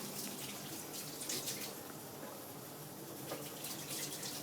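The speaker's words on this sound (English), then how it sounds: "Now just wash your hands." Water runs steadily from a kitchen tap as hands are washed between steps of making shortbread, a soft continuous splashing hiss, faint and unbroken with slight swells.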